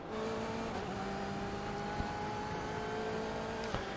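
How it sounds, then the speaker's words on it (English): Steady engine drone of a BMW M8 GTE race car on board through a turn at Okayama in a racing video game, a constant hum with sustained tonal lines and a couple of faint clicks. "On board the BMW M8 GTE as these guys head through what is turn number 4 up the hill a little bit"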